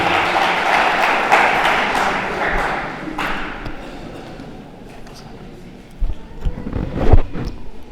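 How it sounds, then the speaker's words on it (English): Audience applause at a school academy's official launch ceremony in Kenya, a burst of clapping that fades over several seconds, followed by a few thuds and handling noises. "Kindly, let's welcome him with a round of applause."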